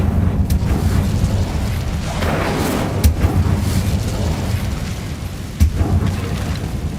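Incendio fire spell cast in Hogwarts Legacy, a loud, dense whooshing roar of flame over a deep rumbling bed, with sharp cracks and bursts popping through at intervals over about seven seconds.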